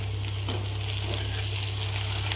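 Slit green chilies and curry leaves sizzle in hot oil for tadka biryani, a dense, continuous crackling hiss that is loud and close, with no speech.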